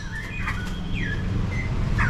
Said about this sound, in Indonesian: Ini burung ini adalah burung Cina.